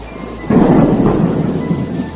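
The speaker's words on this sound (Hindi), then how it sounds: "अचानक एक दिन तेज बारिश होने लगती है" Thunder rumbles over heavy rain in a cartoon about birds farming eggplant, a loud broadband roar that swells suddenly after a brief quiet start and holds steady, with a second rumble rolling in shortly after.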